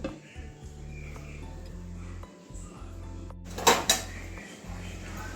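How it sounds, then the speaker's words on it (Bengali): A metal lid set onto a pot of boiling kochu and pui greens in a home kitchen, a low steady simmer hum broken by a sharp clattering clink of metal on metal near the middle. "এবারে ঢাকা দিয়ে দিচ্ছি ঢাকা দিলে তাড়াতাড়ি সিদ্ধ হয়ে যাবে"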